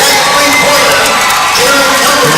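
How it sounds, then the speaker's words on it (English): A high school basketball crowd cheers loudly and rises to its feet as a Washington player breaks the all-time scoring record, a dense burst of shouts and whoops close by throughout. "The crowd's getting on its feet."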